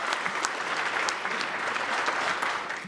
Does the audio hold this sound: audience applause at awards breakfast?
yes